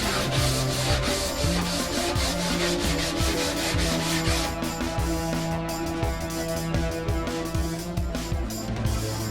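Hand sanding wood with 320 grit sandpaper on a purpleheart thinline guitar body, close, loud rhythmic rubbing strokes back and forth throughout.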